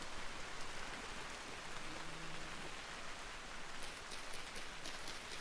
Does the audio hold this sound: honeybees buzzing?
no